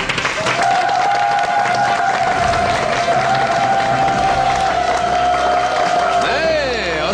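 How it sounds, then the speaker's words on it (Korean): An audience at a health lecture applauds to welcome a doctor to the stage, a loud continuous wash of clapping with a steady tone running beneath it and a swooping sound near the end. "여러분 박수로 환영해 주십시오"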